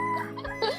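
Rhode Island chickens, egg-laying hens in a backyard coop, give a brief, close clucking call that ends in a sharper squawk.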